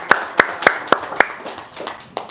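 A small audience claps in slow, sharp, evenly spaced single claps, about eight in all, that grow a little weaker and more ragged toward the end, with no voices over them.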